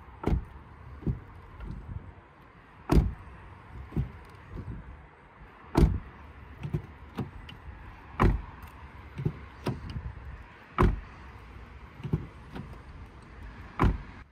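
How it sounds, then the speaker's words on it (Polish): A series of sharp thuds and clicks at irregular intervals as the doors of a 2023 Toyota bZ4X AWD are shut again and again, with mechanical whirs between them. "posłuchajmy jeszcze dźwięku zamykania drzwi"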